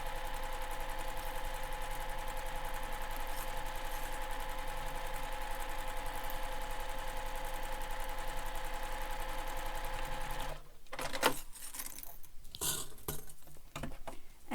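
Sewing machine running steadily as it stitches the long edge of a foam-padded backpack, a continuous mechanical whir for about ten seconds before it stops and gives way to a few scattered handling clicks and knocks.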